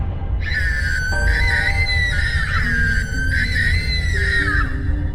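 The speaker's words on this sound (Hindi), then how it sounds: "वो चुड़ैल चिल्ला रही होती है।" A witch in a Hindi horror story screams loudly in a long, sustained, wavering shriek, heard alone over a dense musical backdrop that continues throughout.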